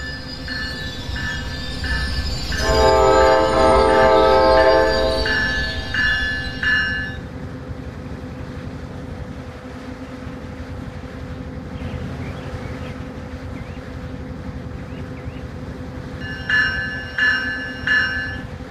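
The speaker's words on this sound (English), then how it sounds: "Northbound train, boarding on track 2-2, Lake Worth is now arriving." A train pulls into Deerfield Beach station in the Rail Sim Universe game. A loud horn blast comes first, then rumbling wheels over the rails, and a softer ringing signal follows near the end.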